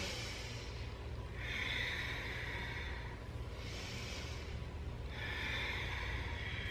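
Slow, deep yoga breathing, with long inhales and exhales swelling and fading in a steady rhythm of roughly two full breaths, close and soft against a quiet room.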